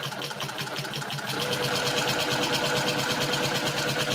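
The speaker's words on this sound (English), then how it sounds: "I'm stitching within 1/8 of an inch" A sewing machine stitches a small quilt near the edge, running at a fast, steady rhythm that picks up and holds loud and close for the whole stretch, with no talking.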